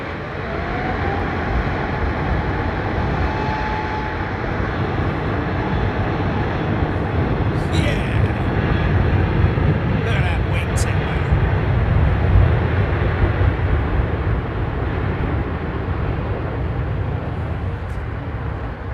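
A Virgin Atlantic Airbus A350 jet at London Heathrow Airport, a loud, steady broadband engine roar that swells slightly midway and holds throughout, close by and without pause.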